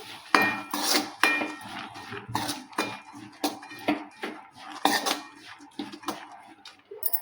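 Cooked horse gram is stirred in a pan, a spoon striking and scraping the metal in a quick, uneven series of close, distinct clinks with nothing else heard between them.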